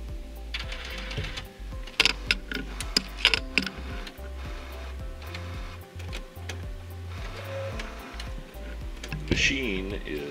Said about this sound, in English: Machine is now initializing.